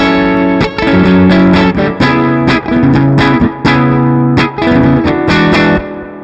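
A Charvel Pro Mod SoCal Style 2 electric guitar on its middle pickup plays through an amp, loud distorted chords and riffs with rhythmic stops, close and alone with no talk.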